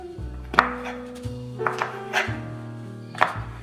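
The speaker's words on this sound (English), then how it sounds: "Cut the fish like this." A knife chops through fish on a cutting board, a handful of firm, distinct thunks spaced irregularly, close and fairly clear, with a low background hum and no talking.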